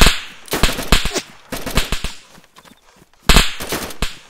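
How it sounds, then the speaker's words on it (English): Repeated gunfire in the survival video game DayZ, crackling in several rapid bursts of close, sharp shots separated by brief pauses. "I hear the shots."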